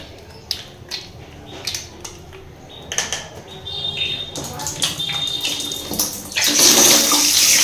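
Water splashes from a tap as oily hands and face are washed with face wash, in irregular bursts of splashing and dripping that build into a louder, steadier gush near the end; faint voices sound underneath.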